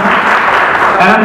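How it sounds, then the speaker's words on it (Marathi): An audience at a public gathering in a neighbourhood breaks into loud applause, a short, dense wash of clapping at full volume with a voice faintly mixed in. "म्हणून एकदा जोरदार टाळ्या होते"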